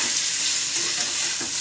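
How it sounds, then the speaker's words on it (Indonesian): Sliced jengkol fries in a little oil in a covered pan, a dense, steady sizzle and crackle that stays close and constant with no voices. "Jadi goreng jengkol tuh nggak perlu banyak-banyak minyak, minyaknya dikit aja"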